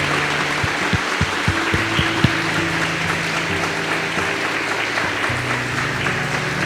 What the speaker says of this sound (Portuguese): Eu gostaria de pedir a todos que estão presentes para nós darmos uma salva de palmas para eles